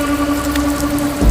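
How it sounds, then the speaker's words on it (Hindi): Steady heavy torrential rain pours as a dense, continuous hiss with a low rumbling swell near the end, under a faint background hum. "मूसलाधार बारिश भी शुरू हो चुकी थी।"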